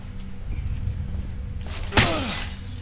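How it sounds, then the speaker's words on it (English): Glass shatters with a sudden sharp crash and a bright tinkling scatter of fragments in the video game Condemned: Criminal Origins, heard over a low, murky ambient background. "I broke the glass, but I don't need the health kit,"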